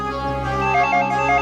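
A house landline telephone rings in a crime drama scene, a loud continuous electronic ringtone with a steady buzzing tone and no voices over it.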